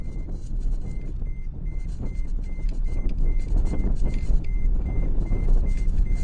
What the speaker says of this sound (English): That's just the seatbelt buzzer going off.